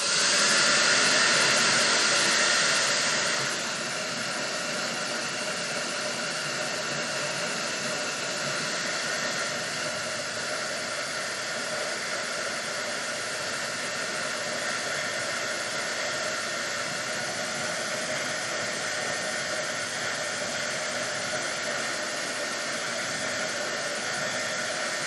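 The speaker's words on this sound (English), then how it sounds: "I am gonna pull out my handy dandy blow dryer and get this going." A blow dryer runs continuously with a loud, steady whooshing roar, slightly louder for the first few seconds before settling into a constant hum.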